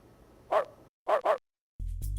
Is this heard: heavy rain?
no